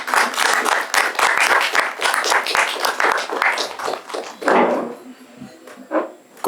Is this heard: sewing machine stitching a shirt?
no